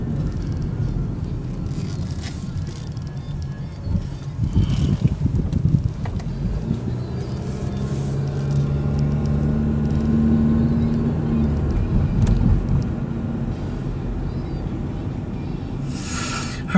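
A 2006 Hyundai Elantra drives along with a steady low road and engine hum, a brief louder surge early on, and wind noise buffeting the microphone throughout.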